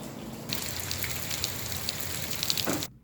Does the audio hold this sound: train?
no